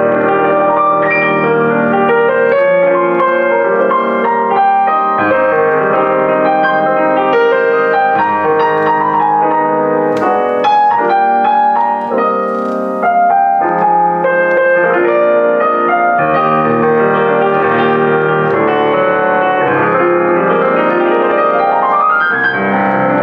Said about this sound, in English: Press the Boissendorfer, and that sounds like this.